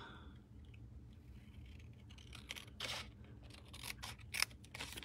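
Scissors snipping paper for a Design A Daydream Monkey Kut craft kit, several short crisp cuts bunched in the second half, close and fairly quiet over a low steady background hum.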